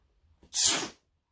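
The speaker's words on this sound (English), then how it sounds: "suddenly you're awakened by a sneeze" A single loud, close sneeze with a quick breath before it, then silence.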